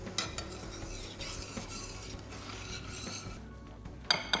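A spoon stirs hot homemade marshmallow mixture with vanilla in a bowl, giving soft repeated scraping and a few sharp clinks against the side, heard close with no talking.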